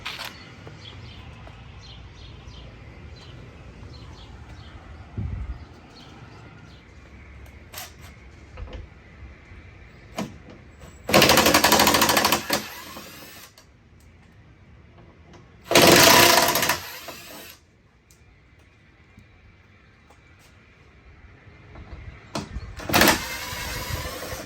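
Power driver spinning a screw in while mounting a Midland MXT575 radio in a vehicle: two loud, buzzing bursts of a few seconds each, separated by quieter handling clicks and knocks nearby.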